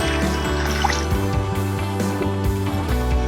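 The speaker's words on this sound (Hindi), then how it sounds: "अब इसमें हमने तकरीबन 3 लीटर के करीब पानी डालना है।" Roughly 3 liters of water being poured into a pot of lentils and cracked grain for homemade haleem, a steady liquid trickle and splash under a droning hum, close and continuous with no talk.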